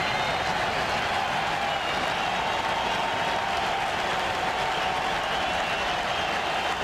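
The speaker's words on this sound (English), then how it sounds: "Crowd getting into it, standing up." Baseball stadium crowd at a World Series game between the Mets and Yankees at Yankee Stadium, rising to their feet and cheering steadily throughout, a dense, continuous roar of many voices with scattered applause.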